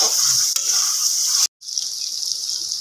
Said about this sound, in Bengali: এবার এটা দিয়ে ভালোভাবে মিক্স করা হচ্ছে আলুটাকে।